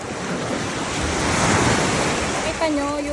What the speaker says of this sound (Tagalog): Malakas alon guys.